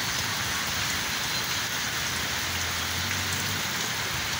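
Heavy rain pours steadily over forest and large trees in the countryside, a dense unbroken hiss that stays even throughout, with a low hum near the end.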